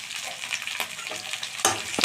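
Potato pieces fry in oil with salt and coloring powder for an Assamese fish curry, a close, steady crackling sizzle with a few sharper spatters and stirring scrapes toward the end, no talking.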